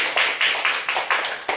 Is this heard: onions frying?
no